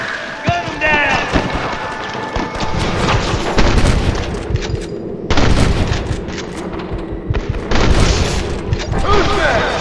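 Gunfire in the Western video game Red Dead Redemption: loud, continuous booming shots and bursts crowd the whole stretch, layered over a busy battle din with voices calling out underneath.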